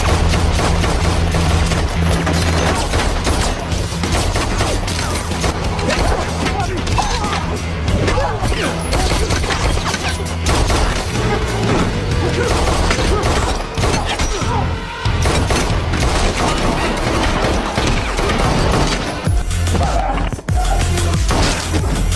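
Dense bursts of gunfire, crashes and heavy thuds fill a long action scene from John Wick: Chapter 4 set around stairs near Umeda station, with shots coming in rapid volleys amid loud music and effects.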